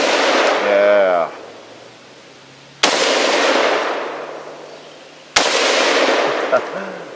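Three loud, sharp FN FAL rifle shots spaced a couple of seconds apart outdoors, each followed by a long, decaying echo, with a brief voice near the start.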